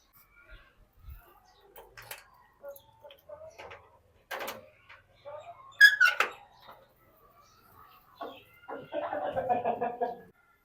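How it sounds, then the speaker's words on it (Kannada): Faint, scattered clucks and short calls from chickens, quiet between bursts, ending with a louder stretch of clucking. "ಅದೇ ರೀತಿ ನಮ್ಮ ಕೋಳಿಗಳನ್ನ ವಿಚಾರ ಮಾಡ್ಕೊಂಡ್ಬಿಡೋಣ ರೀ"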